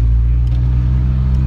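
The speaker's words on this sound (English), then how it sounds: "now we're in a Ferrari 328 GTS" Cabin view of an old Ferrari 328 GTS with a five-speed gearbox: a steady, loud low engine rumble with road noise while driving at a constant pace and no clear revving.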